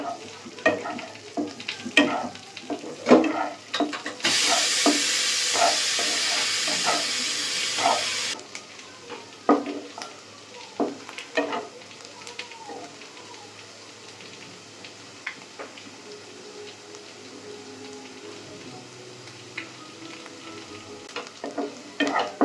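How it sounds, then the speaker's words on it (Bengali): Onions sizzle in hot oil while being stirred, with a brief burst of loud hiss early on, then a quieter steady fry marked by scattered clinks and scrapes of a utensil, close by. "তেল গরম হয়ে গেছে, দিয়ে দিয়েছি পেঁয়াজ"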